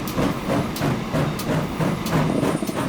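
A train rolls along a mainline in the Transport Fever 2 railway game, producing a rumbling, clattering run with rhythmic wheel knocks and occasional hissing bursts at a moderate, steady level.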